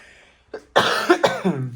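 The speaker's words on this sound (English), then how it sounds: "I'm about to just have a little cough." A single short cough from a nearby person, followed by a brief throat-clearing rasp, otherwise quiet.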